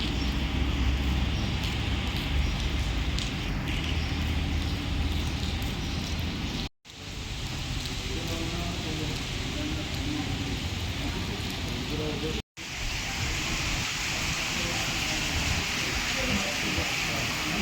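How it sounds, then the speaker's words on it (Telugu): Heavy rain pours steadily across Dubai, a dense continuous hiss with low rumble throughout, briefly cut by two short dropouts. "జోరు ఉంది వర్షం"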